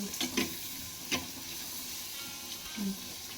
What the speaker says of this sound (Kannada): ಸ್ವಲ್ಪ ಫ್ರೈ ಆಗಲಿ ಅಂದ್ರೆ ಗೋಲ್ಡನ್ ಕಲರ್ ಬರಲ್ರಿ